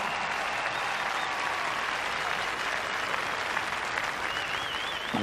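Audience applauding at a professional Latin ballroom dance competition in Paris, a continuous broad roar of clapping from a large crowd, steady and sustained, with a faint musical tone drifting through near the end.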